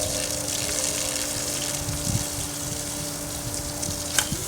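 A Greenworks 1700 psi electric pressure washer hisses and gushes steadily as water is bled through its line, with a continuous pump hum and no talk.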